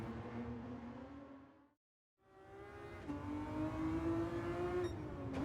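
Race car engine in a racing video game held at 6,000 to 7,000 RPM, a loud steady high-revving drone that cuts out briefly mid-clip, then returns and climbs through gear changes, with no talking.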